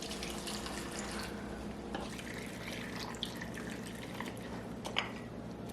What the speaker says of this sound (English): not boiling, but hot water into the jars.